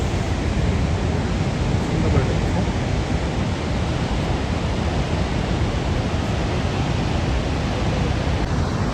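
A heavy, continuous roar of Niagara Falls at night, dense broadband rushing water that stays steady and loud throughout with no pauses.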